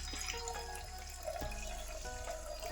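Water pours into a spiced pani puri mixture, a soft continuous trickle and splash with a few small clinks, fairly quiet and close, no talking.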